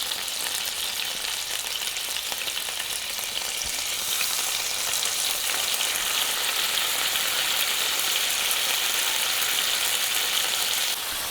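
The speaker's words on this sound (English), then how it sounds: "you want to hear that sizzle when you drop whatever you're frying into your skillet." Marinated pork chops sizzle steadily in a hot frying skillet, a dense, loud hiss of frying fat that grows slightly fuller partway through and continues without pause or talk.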